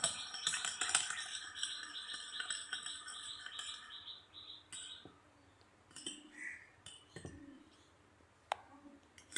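A turmeric face pack mixture is stirred in a small bowl. Close, ringing clinks and rapid clicking come at first, then thin out into sparse, quiet taps and scrapes.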